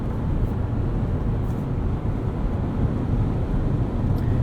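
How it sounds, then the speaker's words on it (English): Steady broadband wind and road rush inside a 2019 Toyota RAV4 Hybrid Limited cruising at speed, a constant full roar with no speech over it. "There's some wind noise, but maybe that's because the drivetrain is so quiet."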